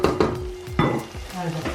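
Garlic and ginger paste hitting a hot pan for chicken biryani: a quick crackling sizzle mixed with the scrape and clink of a utensil stirring against the pan, close and fairly loud.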